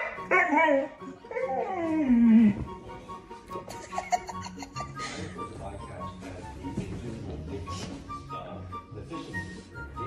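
Jealous Rottweiler whining and yipping, with rising and falling high-pitched whimpers up close, loudest early, then softer yips and whines mixed with other noise.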